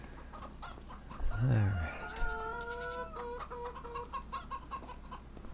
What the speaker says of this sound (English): Just having a look at the chickens.